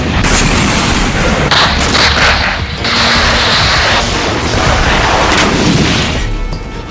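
Explosions in Transnistria come as loud, dense, sustained booming and crackling blasts that merge into a continuous roar, with no voices.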